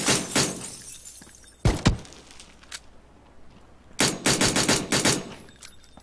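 Pistol gunfire in a video game battle, with sharp, loud shots in bursts: a cluster at the start, a hard pair near the middle, then a rapid volley of close shots toward the end.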